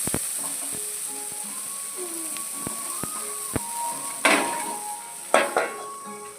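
Eggplant frying in a pan, stirred and then covered with a lid: a soft steady sizzle under sharp clinks of a utensil against the pan, with two louder scraping bursts near the end.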